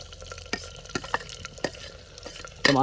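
Onions and tomatoes frying in a karahi for chicken karahi, a low steady sizzle with scattered spoon taps and scrapes, ending in a sudden louder hiss.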